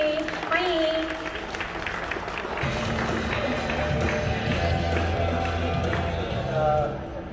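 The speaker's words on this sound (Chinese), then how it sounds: "掌声欢迎我们周总经理，欢迎。" Applause rings out at a vivo store opening as a general manager is welcomed, a dense wash of crowd clapping running throughout while an announcer's amplified voice carries over it.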